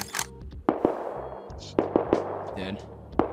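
Sharp gunshots ring out during a video game raid, coming as scattered single cracks and short pairs at an irregular rhythm. Quiet voices talk underneath.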